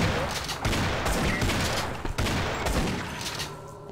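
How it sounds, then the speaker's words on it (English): Rapid bursts of shotgun fire from Half-Life: Blue Shift played in Sven Co-op, loud and dense, several blasts crowding together over roughly three seconds before trailing off. "Well, I'm using the shotgun."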